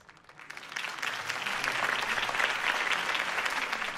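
A crowd in the video game Batman: The Telltale Series breaks into applause, building quickly from a few claps into steady, dense clapping that holds to the end.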